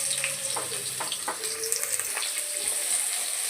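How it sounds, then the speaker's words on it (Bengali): Potatoes frying in hot mustard oil in a pan give a steady close sizzle with soft watery crackle and a few brief clatters, with no talk. "আলুগুলো একটু লাল লাল করে ভাজা করে নেব।"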